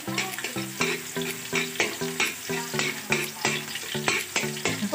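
Garlic sautéing and browning in a pan for squid adobo, a steady sizzle broken by rhythmic metal spatula stirs against the pan, close and clear with no one talking.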